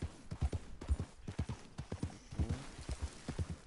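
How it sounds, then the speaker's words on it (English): Horse hooves clip-clop in a steady, brisk rhythm of sharp, close thuds in Red Dead Redemption 2, with little else over them. "You can't calm the horse down."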